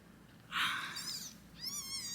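An abandoned newborn kitten gives two thin, high meows, the first sharper and the second wavering, close and fairly soft against a quiet room.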